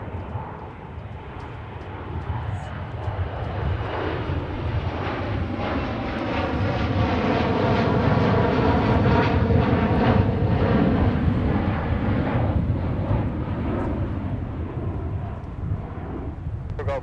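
A Gulfstream business jet rolls for takeoff at Minneapolis–St. Paul airport on a windy day, its engine roar swelling to a loud, near peak mid-way with a rising whine, then easing slightly as it climbs away.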